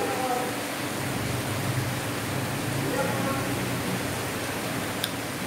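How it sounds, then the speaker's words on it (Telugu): Heavy rain falls steadily on a morning in a home, a dense, even hiss of water that holds at the same loudness throughout, with no voices over it. "కానీ భయంకరమైన వర్షం పడుతుంది"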